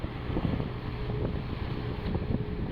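A sailboat runs under goosewinged sails with its engine on low in support, giving a steady loud rush of wind and water over a low motor drone, with no voices.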